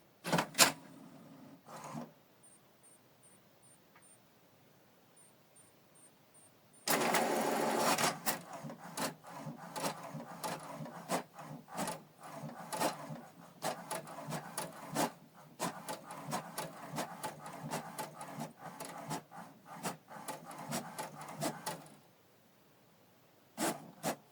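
An inkjet printer works through a page: quiet whirring at first, then a long stretch of rapid mechanical clicks and sliding rasps before it goes quiet.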